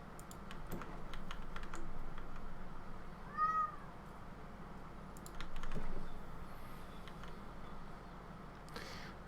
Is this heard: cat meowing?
yes